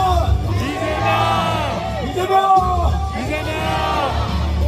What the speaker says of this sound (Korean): 구호 한번 외치겠습니다